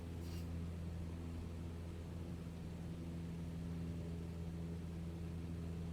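Steady drone of a light propeller airplane engine in the Microsoft Flight Simulator game, a continuous low hum with strong harmonic bands held at constant power throughout, alone with no talk.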